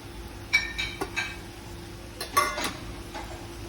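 Ivy gourd slices are stirred with spices in a pan for a Marathi-style dry sabji, and a utensil scrapes and clinks against the pan in a few light, irregular taps over steady low background hiss, without talk.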